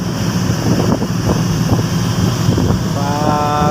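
Strong amihan northeast monsoon wind roars steadily across a sea crossing, buffeting the microphone with loud, constant gusts over rough water, and a faint motor hum rises near the end.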